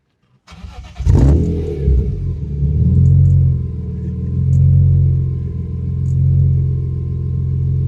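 A BMW E46 M3 with a non-stock exhaust cranks and fires up, the start giving way to a deep, loud, steady idle rumble that swells and settles, heard close with no talk.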